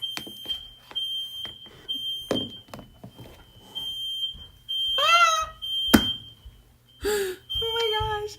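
Several household smoke detectors sounding off indoors, sharp high beeps repeating over and over, with brief bursts of louder shrill chirps and people talking in between.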